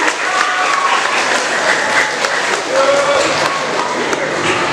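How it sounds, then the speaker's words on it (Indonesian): A school crowd at a student council candidate debate claps for the student candidates, a loud, dense round of applause with scattered cheers and voices mixed in. "Beri tepuk tangan juga."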